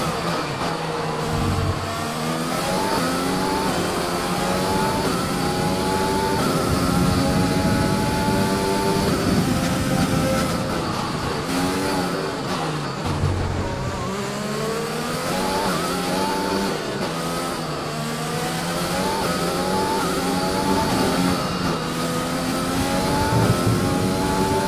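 Formula 1 race cars roaring in the F1 2020 video game, a loud sustained engine whine rising and falling through gear shifts during a final lap, continuous and close with no talk.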